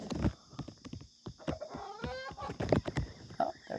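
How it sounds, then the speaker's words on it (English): Chickens cluck and chatter around a farmyard in a busy mix of short calls, with scuffling and tapping noises among them, fairly close and moderately loud. "Oh, there's one of our chickens."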